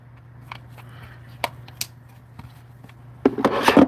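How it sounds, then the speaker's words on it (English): A hard bristle brush scrubbed against a sheet of sandpaper gives a short, rough, scratchy burst near the end, after mostly quiet air with a low steady hum and a few faint ticks. "you take a hard bristle brush and you brush it against the sandpaper and it revitalizes the sandpaper"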